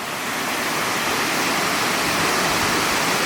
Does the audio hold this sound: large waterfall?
yes